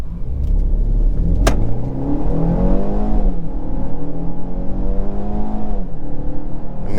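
A 2023 BMW X1 xDrive28i pulls away hard from a stop with traction control off, its turbo engine rising through a long rev sweep, dipping at a gearshift and climbing again, loud and continuous from inside the cabin.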